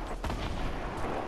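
A gunshot in the video game Fortnite: one sharp, loud report near the start, followed by a dense, booming roar of continued fire and explosive noise.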